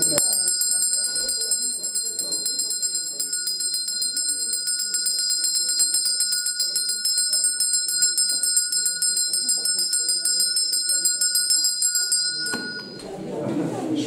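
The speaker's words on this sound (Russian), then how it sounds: "Школьный звонок." A school bell rings continuously in a long, steady metallic trill with bright sustained tones, moderately loud, stopping near the end as a rush of noise follows.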